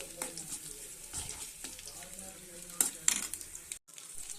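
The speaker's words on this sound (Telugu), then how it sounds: "వెల్లుల్లి వేయించుకొని వెల్లుల్లి కూడా ఒక ప్లేట్లోకి తీసుకుంటాను" Garlic frying in a pan, a soft steady sizzle with scattered stirring scrapes and a few sharper clinks near the end, then a brief drop to silence.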